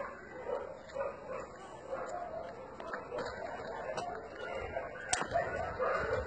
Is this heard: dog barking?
yes